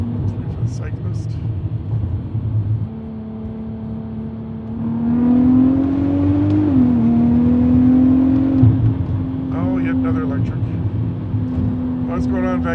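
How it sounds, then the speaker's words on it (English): A turbocharged VW Golf MK5 R32 engine, tuned by HPA Motorsport, pulls to high RPM, its loud drone rising in pitch, dipping, then climbing again before settling, with someone talking over parts of it. "I like a nice high RPM for corner entry, and this motor just sings so nicely as it gets up there"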